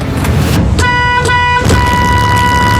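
A school bus horn sounds close and loud in several toots: two brief blasts in quick succession, then a longer sustained honk, over steady engine and road noise.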